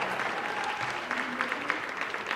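Steady audience applause at a Women of Distinction event, a dense, even patter of many hands that holds for a couple of seconds without voices.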